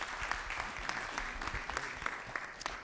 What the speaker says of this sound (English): We got to clap for that one.